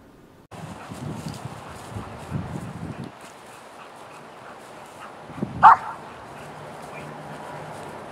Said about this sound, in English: now I get one bark